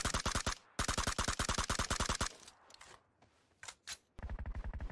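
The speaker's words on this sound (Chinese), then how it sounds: "120方向有枪声" Gunfire in a battle royale video game: rapid, evenly spaced bursts of automatic fire, loud and close, stopping briefly, then a quieter stretch with scattered shots before another fast burst.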